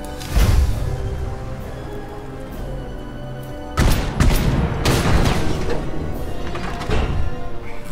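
Shots and heavy booms ring out in the mech combat game Ironcast, with two clusters of loud thuds and crashes separated by a quieter stretch of game ambience.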